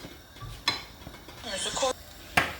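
Lid set onto a pot of milk pudding (sütlaç) in a home kitchen, giving a few sharp metallic clinks and a brief rattle, with light kitchen clatter in between; no talking.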